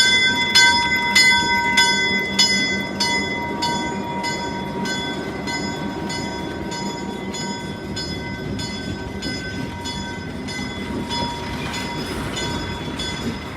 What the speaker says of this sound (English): Eastbound Golden Gate Train 62 swings off of Sacramento Street as it heads for the Berkeley